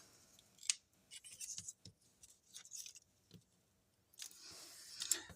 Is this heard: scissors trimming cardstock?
yes